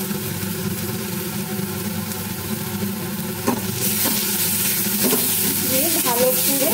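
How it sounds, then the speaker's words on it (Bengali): A spice paste with coriander and Kashmiri chili powder sautés in a pan, a steady close sizzle with stirring, louder in the second half, while a voice talks over it. "মশলাটাকে কষিয়ে নেব।"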